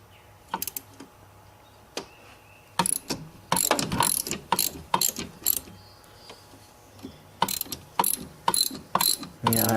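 A hand wrench ratchets on a 13 mm engine bolt of a Ford Taurus 3.0L OHV during intake and timing cover gasket work, with repeated close clicking bursts separated by short pauses.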